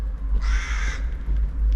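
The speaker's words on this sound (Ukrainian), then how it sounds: "Старий ворон." An old crow caws in a city street in Poltava, a single hoarse call lasting about half a second, heard clearly over a steady low traffic rumble with no talking.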